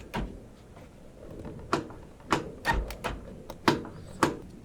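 A door latch unit on a 2000 Jeep Cherokee XJ door is worked repeatedly, giving a series of sharp metallic clicks and clacks, close and distinct, spaced irregularly over a quiet background.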